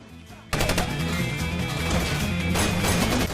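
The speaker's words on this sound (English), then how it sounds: "As they escape, they come under heavy gunfire." Heavy gunfire in an action movie escape scene, with dense rapid bursts of automatic fire and crashing impacts that start abruptly and stay loud and relentless throughout.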